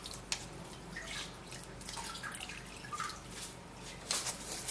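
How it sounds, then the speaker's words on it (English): Cucumber juice drips and trickles through a sieve into a container, a soft, continuous close-up patter with small splashes and no talking. "I'm going to be sieving out the juice."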